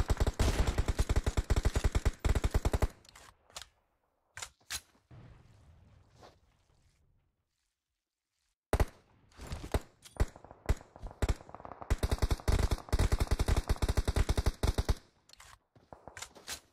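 Close, loud sniper rifle shots from an M24 in the battle royale game BGMI, fired in repeated bursts that trail into echoing reports, then a quiet stretch before the shots resume.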